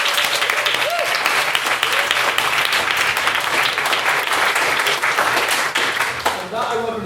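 A debating-society audience gives loud, sustained applause in a hall, steady throughout with a few faint voices under it and a brief vocal sound near the end.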